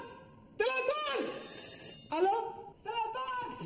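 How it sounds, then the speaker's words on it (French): A telephone rings in a police station comedy scene, three separate bright, jangling bursts with short pauses between, loud and close, with voices around it. "Téléphone!"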